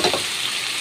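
Sardines drop into a hot pan for ginataang sardines, a brief close-up sizzle and crackle of frying that flares at the start and settles into a steady hiss.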